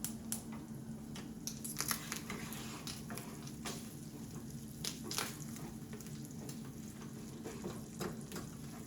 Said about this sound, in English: Lovely sizzle, beautiful smell.